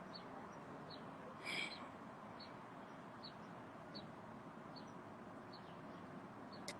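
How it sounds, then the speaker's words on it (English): Faint outdoor birdsong, short high chirps repeating roughly every half second over a quiet steady background hiss, with one brief louder call. "we couldn't have had a better background noise with the birds chirping"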